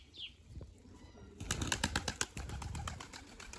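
Racing pigeons kept by a pigeon fancier in Siyezen, with a burst of wing flapping and clattering from the birds that starts halfway through and continues in quick repeated beats up close, over a faint outdoor background.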